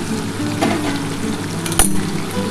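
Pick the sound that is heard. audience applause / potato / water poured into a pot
potato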